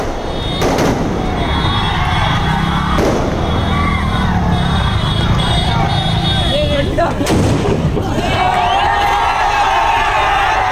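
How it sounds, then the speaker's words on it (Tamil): Firecrackers bursting on a road beside a stopped bus carrying college students: loud, sharp cracks at irregular intervals over a continuous noisy crowd din with shouting. "சாலையிலேயே பேருந்தை நிறுத்தி பட்டாசு வெடித்து அட்டகாசம்."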